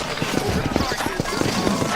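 Horse hooves clip-clopping in the Red Dead Redemption video game, a quick, close rhythmic clatter of several hoofbeats heard beneath a voice speaking.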